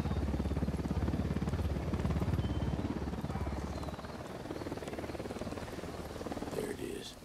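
Helicopter in the video game Ghost Recon Wildlands, a loud rapid rotor throb close by that eases slightly partway through, with a voice speaking over it.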